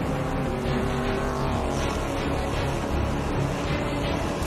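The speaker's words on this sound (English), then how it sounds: "Furiously working to stay ahead of the number 9 Peugeot, the race-leading Audi comes upon Pagenaud's slower teammate" Audi R18 race car at speed during the Le Mans endurance race, a loud continuous engine roar filling the whole stretch with a dense, steady rumble and no voices.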